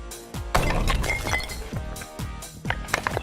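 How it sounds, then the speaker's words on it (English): A sledgehammer smashing Tack Glasses Elite glasses, giving several loud shattering crashes with tinkling glass fragments scattering between heavy blows. "what about smashing them with a sledgehammer?"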